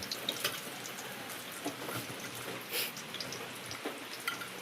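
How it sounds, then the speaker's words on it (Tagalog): Heavy rain falling outdoors makes a steady, hissing wash of noise with scattered louder splashes and drips, moderately close, with no speech over it. "Ang lakas ng ulan dito"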